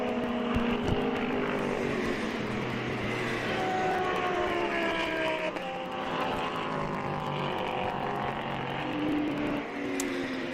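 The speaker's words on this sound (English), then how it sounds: "we do have two Porsche cars here, followed by the KTM Expo GT4" Porsche race cars and a KTM X-Bow GT4 race past on the Red Bull Ring circuit during a GT Cup race, a steady loud engine roar with shifting pitch that runs the full length without a break.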